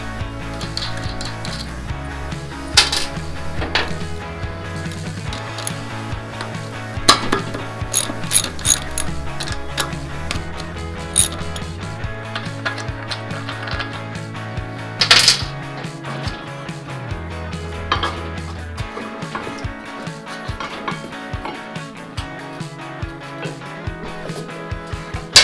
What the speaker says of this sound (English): Now we're going to take off the front wheel.